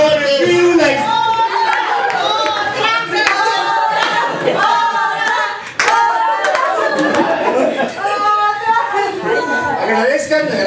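A crowd at a New Year's gathering claps loudly and steadily for about ten seconds, the applause mixed with shouting and cheering voices throughout.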